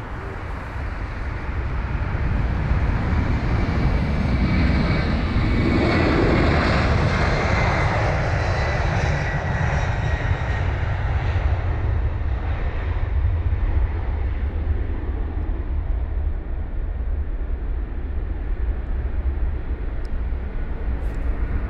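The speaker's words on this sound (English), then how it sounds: "now we'll capture the United 767-300ER" A United Boeing 767-300ER jet departs London Heathrow with a loud, sustained engine roar that builds, peaks and slowly fades as it climbs away, with no talk.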